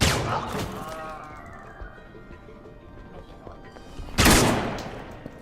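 Bursts of gunfire from the Alpha Protocol video game, blind-fired: a loud volley at the opening, a ringing tail, then another sharp blast near the end, with a voice talking over parts of it.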